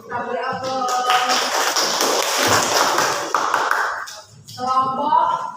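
An audience at an event applauds, a dense burst of clapping swelling for about four seconds before fading, with voices speaking before and after it.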